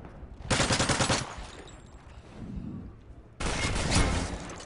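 ACR rifle gunfire in a competitive PS3 video game match, two loud rapid automatic bursts separated by a quieter pause with distant shots.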